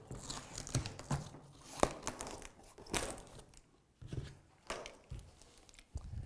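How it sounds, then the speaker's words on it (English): Knife slicing packing tape around the cardboard box of a Glion B1 eBike, a series of short crackling rips and scrapes in bursts with brief pauses, close and moderately loud, with no talk. "Now take a knife and carefully cut the tape all the way around."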